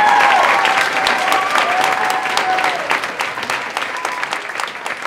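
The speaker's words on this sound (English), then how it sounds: "Can you please give her a round of applause?" A crowd applauds steadily for several seconds, dense clapping that gradually thins out toward the end.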